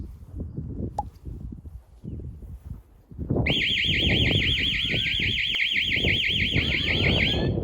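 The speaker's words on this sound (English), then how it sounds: "an external motion sensor in action, part of a burglar alarm system" A burglar alarm set off by an external motion sensor blares a loud, continuous warbling siren that kicks in a few seconds in and holds steady to the end, after a stretch of quieter rustling and handling noise.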